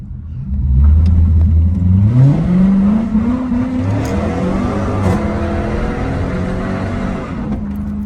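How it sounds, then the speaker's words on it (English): Chevrolet Camaro police car accelerating hard at full throttle, engine note climbing loudly and steadily through the rev range, up close and strong with a dense roar throughout. "I've been wanting to put my foot to the floor of this car ever since I bought it."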